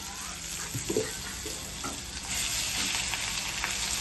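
Red masala with onion-tomato paste sautéing in a pan, a steady broadband sizzle throughout that thickens and grows louder in the second half, with a few soft scraping stirs early on.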